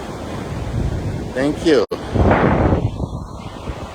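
Wind gusting across a beach on Florianopolis island, Brazil, on a cool, breezy day, a broad rushing roar that swells and carries on under close talking voices.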